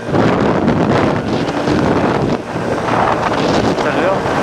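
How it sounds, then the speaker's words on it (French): Strong gusting wind buffets the microphone of a moving 125 cc motorcycle, a steady loud broadband roar that stays dense and unbroken throughout. "Le vent s'est énormément levé"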